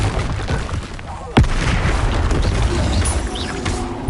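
A Confringo blast goes off in Hogwarts Legacy, a sharp boom near the middle that rings through ongoing rumbling game noise and effects.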